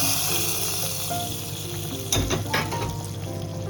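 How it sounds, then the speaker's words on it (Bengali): Spices tempering in hot oil for a Bengali-style lentil soup, a steady dense sizzle with brief louder crackling bursts partway through, close by and with no talk. "একটুখানি ফোড়ন দিয়ে নিই"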